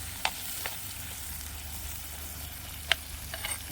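Onions frying in a pan give a quiet, steady sizzle, broken by a few sharp clinks of stirring against the pan, with no talk.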